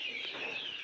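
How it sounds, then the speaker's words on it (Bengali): Desi chickens clucking while being fed, a brief close burst of bright overlapping clucks and chatter from several birds, loud and without talking. "মুরগিগুলোকে এখন খেতে দেওয়া হয়েছে"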